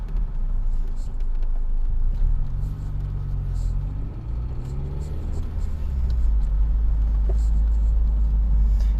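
A 1989 Honda Prelude driving on the road, a steady low engine rumble and road noise from inside the cabin, swelling louder near the end as it picks up speed, with someone talking over it.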